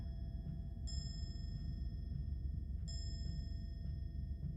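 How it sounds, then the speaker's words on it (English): Two bright chime dings ring out about two seconds apart from a clock in the video game Karma: The Dark World, each sustaining over a steady low background hum. "a ding dong for every 15 and then it bings for each 1 minute."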